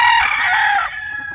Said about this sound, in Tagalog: Yun yung ating mga Boston Roundhead broodstag nandito sa loob ng Green Country Game Farm.